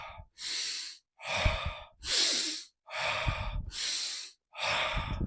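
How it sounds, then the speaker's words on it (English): Deep breaths drawn in and let out during a guided breathing exercise, six long rushing breath sounds in steady alternation, close and alone with short pauses between them. "Breathe in as deep as you can."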